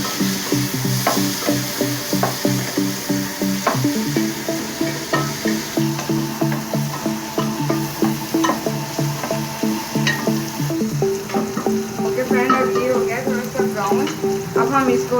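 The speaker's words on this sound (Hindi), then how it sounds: "अब इसमें हम टमाटर, लहसुन और सब्ज़ मिर्च डालेंगे। थोड़ा सा लाइट सा फ्राई करेंगे।" Tomatoes, garlic and green chili fry in a pan, a steady close sizzle with rhythmic scraping strokes of a spoon repeating throughout, no talking over it.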